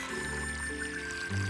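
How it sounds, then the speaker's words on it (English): Vegetable broth poured into a pot of vegetables, a soft steady liquid stream that swells slightly near the end, faint and close with no talking. "I pour 3 cups of vegetable broth into the pot."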